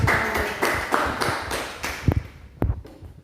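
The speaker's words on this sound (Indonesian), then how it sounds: "tepuk tangan untuk Nona" A ninth-grade religion class gives a short round of applause, a handful of separate sharp claps at loose intervals that thin out and fade, ending in a couple of isolated taps.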